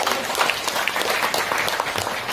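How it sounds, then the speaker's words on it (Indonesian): Dense, steady applause from a crowd of attendees at a company leadership gathering in Yogyakarta, with many hands clapping at once, loud and continuous throughout. "Tepuk tangan lagi."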